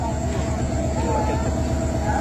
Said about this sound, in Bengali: 797 আপ কুড়িগ্রাম এক্সপ্রেস ট্রেনটি মিরবাগ ঢোকার পূর্বে কোয়ালের পালার মধ্যে আটকে এখন গাড়িটি আস্তে করে ব্যাক দেয়া হচ্ছে পিছনের দিকে